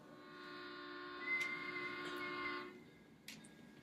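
A train at a sleepy rural junction just across the border into Oklahoma sounds a long, sustained multi-tone horn blast for nearly three seconds, then a brief clank follows in otherwise quiet surroundings.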